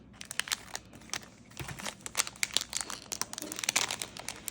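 Packaging around an ordered scratcher being cut open, with soft close crinkling and rustling of plastic and brief snipping sounds in irregular bursts.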